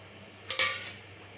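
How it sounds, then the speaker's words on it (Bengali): A spoon clinks twice against a pan while bread pieces are stirred into thickened milk for bread halwa, with brief scraping that fades into quiet room noise. "ব্রেডের টুকরো দিয়ে দিলাম দিয়ে এটা একটু মিশিয়ে নিচ্ছি"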